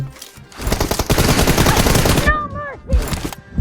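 Loud, rapid automatic gunfire from PUBG Mobile rattles in one dense sustained burst, then a short gap with ringing tones before another brief burst.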